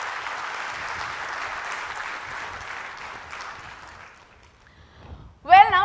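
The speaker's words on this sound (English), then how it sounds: "all of you need to give a big round of applause to the entire team of" Applause from a conference audience for the organizing team, a broad steady wash of clapping that fades out after about four seconds, followed by a brief louder sound near the end.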